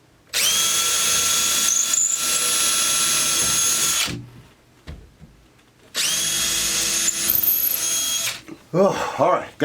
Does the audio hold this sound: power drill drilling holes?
yes